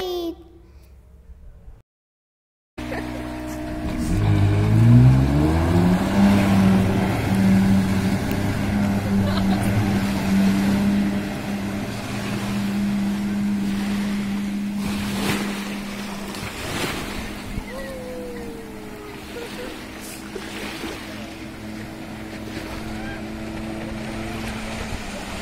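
A jet ski ride on the water at Malvan: a steady engine drone with rising pitch as it gets underway, loud and close, mixed with wind and splashing waves for most of the stretch.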